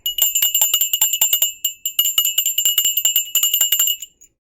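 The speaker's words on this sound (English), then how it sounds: "Ring the bell." A video-game bell from Ring Fit Adventure rings in quick, bright repeated dings for about four seconds, loud and close with nothing else behind it, before stopping abruptly.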